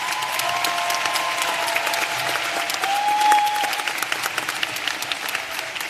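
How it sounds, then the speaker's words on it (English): Audience at a graduate program commencement clapping for the graduates, dense sustained applause from a large crowd filling the hall, steady throughout with a faint tone partway through. "And a warm round of applause for these graduates,"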